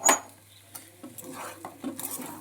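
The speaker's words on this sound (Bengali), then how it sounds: "এবার চালটাকে এই সোয়াবিন আর মশলার সাথে ভালো করে নেড়ে নিতে হবে" A spoon stirs rice with soybean and spices in a pot, starting with a sharp clank and then giving soft, close scraping and shuffling strokes with no talking.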